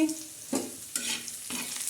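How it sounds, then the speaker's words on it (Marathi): Chopped onion sizzling and browning in hot oil with cumin on a flat griddle pan, close up, with a few rhythmic scraping stirs breaking through the steady frying hiss. "कसा मस्त कांदा असा लाल लाल होत आहे तडका बसत आहे कांद्याला"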